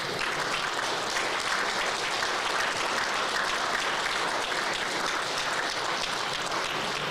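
Sustained, dense applause from a large crowd giving a standing ovation at the Touchdown Club of Houston's Hildebrand Foundation private school awards dinner, steady and loud throughout with no pauses.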